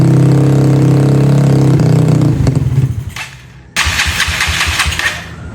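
Small gasoline engine with a freshly cleaned carburetor, loud and close, cranking and droning, then briefly sputtering before catching and running in a rough, busy idle.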